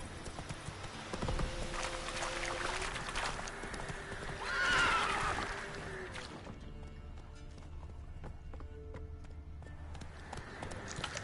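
Hooves clip-clop at a gallop in The Witcher 3, with a horse neighing loudly midway; the rhythm is steady, moderately close, and backed by faint game ambience.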